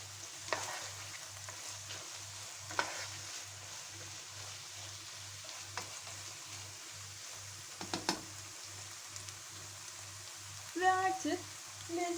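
Tomatoes and tomato paste stirred while frying in a pan for beef goulash, a soft steady sizzle with occasional scraping clicks of the spoon, fairly quiet and without talk.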